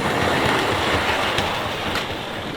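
A model 92203 Black Prince steam locomotive runs on a test track, giving a steady loud rolling rumble and hiss with faint clicks, continuous throughout.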